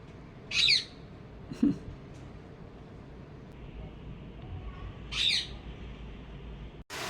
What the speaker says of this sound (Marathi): इकडे फक्त खारुताई आणि चिमण्या आहेत